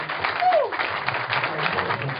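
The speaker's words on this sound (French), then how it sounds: "sous vos applaudissements, Excellence, honorable Félix Tshisekedi, de se tenir debout" A crowd at a welcoming event for Félix Tshisekedi in Angola applauds in a continuous, muffled wash of clapping, with a brief voice or whistle cutting through early on.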